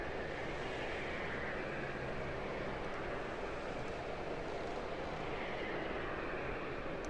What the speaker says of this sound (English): There goes United down the runway there.